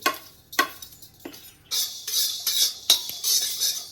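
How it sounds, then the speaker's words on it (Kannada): Mustard seeds and fenugreek are tipped into a pan for Mangalore-style chicken sukka masala, with sharp metal clinks of a spoon on the pan, then bursts of crackling spluttering and scraping, close and fairly loud, with no voices. "ಇದಕ್ಕೆ ಸಾಸಿವೆ ಮತ್ತು ಮೆಂತೆ ಆ್ಯಡ್ ಮಾಡ್ತಾ ಇದ್ದೀನಿ."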